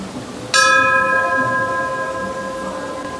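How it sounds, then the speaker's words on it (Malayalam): A temple bell at a Hindu temple in Abu Dhabi is struck once, sounding a sharp clear strike that settles into a long, bright, ringing tone that decays slowly over a few seconds, near and loud with no voices. "ക്ഷേത്രത്തിലെത്തിയാൽ മണിനാഥം മുഴക്കിക്കൊണ്ട് തൻ്റെ സാന്നിധ്യം ഓരോ ഭക്തനും അറിയിക്കാം"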